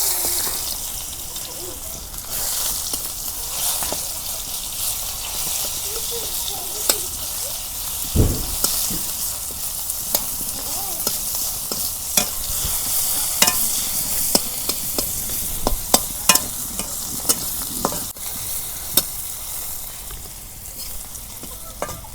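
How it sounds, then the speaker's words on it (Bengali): Cauliflower fries in the pan after tilapia for a winter fish curry, giving a loud, continuous sizzle up close, punctuated by sharp clacks of a spatula against the pan. "মাছ ভাজা হয়ে গেছে, এখন ফুলকপি রান্না করছি।"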